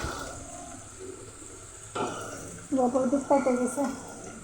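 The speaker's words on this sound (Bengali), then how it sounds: "এই যে পেঁয়াজ ভাজা হয়ে গেছে মাংস ছেড়ে দিলাম" Meat dropped into a pan of fried onions, a quiet sizzle that jumps in level as it hits the hot oil, followed by someone talking over the frying.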